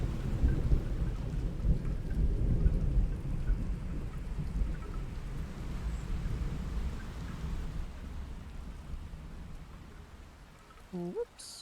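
Rain and rolling thunder from a storm approaching a sailboat at sea, a heavy rumbling wash that slowly fades over several seconds, with a brief voice-like sound at the very end.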